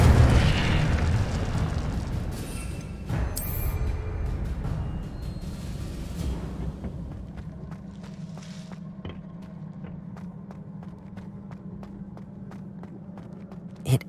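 A fire spell cast in Hogwarts Legacy bursts loudly at the start, a roaring whoosh that fades into a steady low rumble with scattered faint clicks and a small pop at the end.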